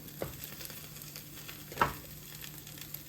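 Pancake frying in a pan at a home cooking session gives a quiet steady sizzle, with soft clicks and one louder scrape or tap near the middle.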